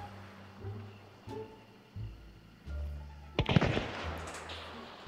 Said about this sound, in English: He threw a concertina bomb at you, didn't he?